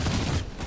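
Sustained gunfire from the Outriders game, a dense loud burst of rapid shots that dips briefly midway before resuming, with no talk.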